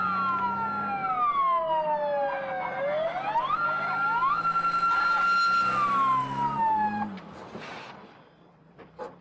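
A police siren wails loudly, sweeping up and down in pitch, then cuts off near the end, leaving quieter background noise.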